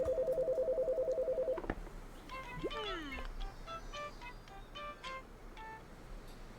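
A steady electronic telephone ring pulses at the start of Chicory: A Colorful Tale, a cartoon painting adventure game, then cuts off as chirpy game tones and soft music continue.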